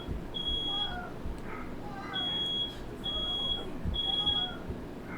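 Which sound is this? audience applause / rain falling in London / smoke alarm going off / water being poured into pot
smoke alarm going off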